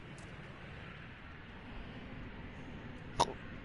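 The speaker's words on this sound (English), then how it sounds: "I tried to yawn and hiccup at the same time." A single sharp hiccup breaks out while a person tries to yawn, brief and close, over a faint steady background hum in a quiet room.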